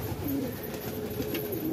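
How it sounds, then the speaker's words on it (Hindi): Pigeons coo softly in a short, low murmuring call, close by, with faint background noise. "वो देखो निकल के गए दो तीन कबूतर।"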